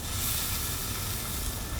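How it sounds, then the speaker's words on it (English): A steady, fairly quiet sizzle of cold Wagyu beef searing in a hot pan, a continuous crackling hiss with no voices. "Here's that sizzle"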